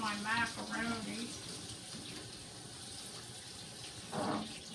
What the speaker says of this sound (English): I like to take some cold water and run it on my macaroni